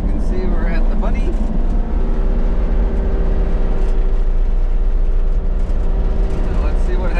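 A brand new Kubota excavator with a power loss issue climbs a steep, bumpy driveway at wide open throttle. Its engine roars steadily and loudly up close for the whole stretch, and a voice talks over it.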